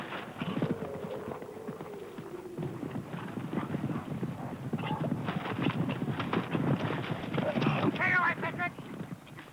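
Horses on a New Zealand hare hunt clip-clop in a steady, overlapping trot of many hooves, with an occasional whinny and wind rumble, while a narrator talks over it.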